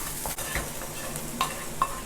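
Rock salt being stirred and roasted in a hot pan for paruppu podi: soft scraping strokes and light crackling sizzle, quiet and close, with a few sharper taps of the spoon against the pan.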